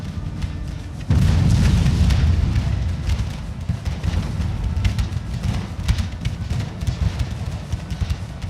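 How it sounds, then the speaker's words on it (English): Grapeshot cannon fire in a Napoleonic war game, with France battling the United Kingdom: a heavy boom opens a thick, rumbling roar of volleys that rolls on and slowly thins into scattered distant pops, with no voices. "I can hopefully get a couple rounds of grape shot in before they advance"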